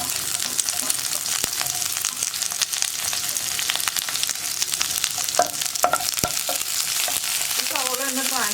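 Sliced onions and curry leaves fry in hot oil with dried red chillies in a pan for cauliflower thoran, a loud, steady sizzle with occasional stirring scrapes and brief tonal clinks near the end.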